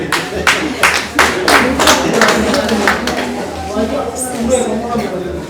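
Rhythmic clapping at a civil wedding ceremony, a series of sharp hand claps in a steady beat that fades out partway through, heard under a person speaking.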